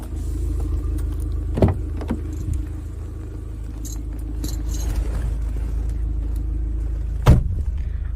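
A 2017 Abarth 595 with a petrol engine and manual transmission idles with a steady low rumble, with a couple of brief knocks and rattles over the hum.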